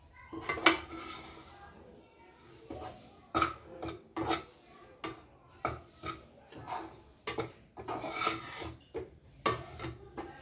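A spoon scrapes and rubs through wheat flour roasting in a pan in rhythmic, repeated strokes, each a short gritty rasp with light metallic clinks, close up, steady pace, no talking.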